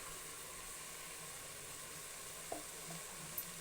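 Ground masala paste frying in a pan, a quiet even sizzle running throughout with a couple of faint clicks near the end.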